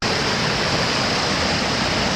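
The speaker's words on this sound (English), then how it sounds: "We decided to make a quick stop at Screwogger Falls, check them out." Screw Auger Falls in Grafton, Maine gives off a steady, dense rush of falling water, a close and unbroken roar lasting a couple of seconds with no voices.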